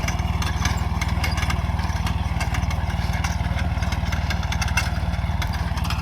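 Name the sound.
mini tractor working in a farm field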